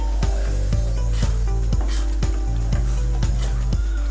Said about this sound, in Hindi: हमने तेज़ आग कर ली है और हमने इसमें चम्मच चलाना है।